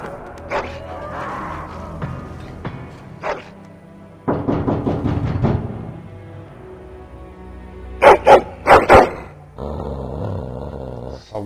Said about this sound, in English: Your hound is making so much noise.